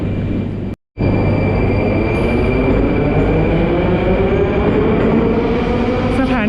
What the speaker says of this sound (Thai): ตอนนี้รถไฟก็มาถึงสถานีปอสเปกมิล่านะครับ